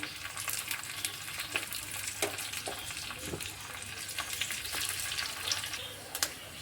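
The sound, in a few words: frying curry leaves and coriander for dal tempering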